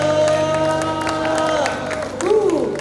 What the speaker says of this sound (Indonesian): Tepuk tangan yang terbaik bagi Tuhan Yesus.